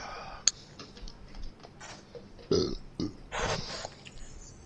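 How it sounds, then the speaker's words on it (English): Several short, gurgly belches sound close up, spread irregularly over a few seconds, with small clicks in between. "Burp."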